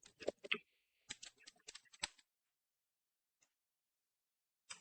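Typing on a computer keyboard, a few quick bursts of close, crisp key clicks separated by silence, with a couple of isolated taps near the end.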